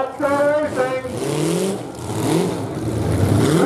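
Cars in a women's powder puff demolition derby at the Sibley Smash rev their engines loudly. Rising and falling motor roars fill the air, and an announcer speaks briefly at the start.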